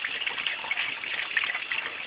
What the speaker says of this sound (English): you just go straight down the back of the bone with the cold water running under it